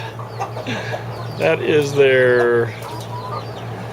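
Farm chickens give a drawn-out cluck and squawk close by, rising and falling over a steady low hum, while a person talks around it.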